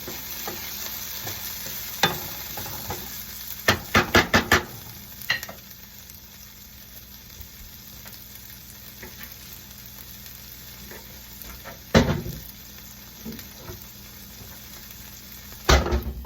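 Peas and parsley sizzle gently in a pan for Sicilian eggs, a steady low frying hiss broken by a few sharp clacks of a spoon or utensil against the pan, with no talking.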